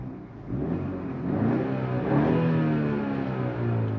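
A BMW engine revs in Comfort drive mode, a moderate mid-pitched swell that rises and holds steady for a few seconds, fairly subdued and alone with no talk.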